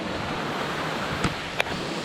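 Rushing water from a rainforest waterfall in Tobago, a steady broadband roar with two faint clicks.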